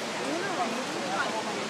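Water pours steadily at the 9/11 memorial fountain in New York, a close, constant rushing wash with faint voices mixed in.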